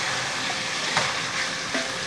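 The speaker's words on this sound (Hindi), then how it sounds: "अब हम इसमें शामिल करेंगे आलू, इसको और अब इसको मिक्स करेंगे और इसके साथ भूनेंगे।" Potatoes fried in oil with keema, stirred through the pan, give a steady close sizzle with a couple of soft scrapes, brief and without talk.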